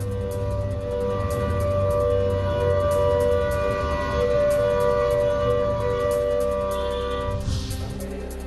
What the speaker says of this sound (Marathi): सायरन वाजवून शाळेमधील सायरनबाबत तपासणी देखील करण्यात आलेली आहे